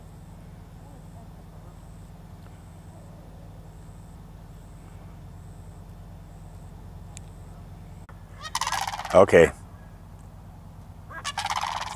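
Turkeys gobble loudly and agitatedly in an outdoor setting in Florida, where a motorhome is being painted, with a burst of calls near the end over steady background hum and a brief spoken word.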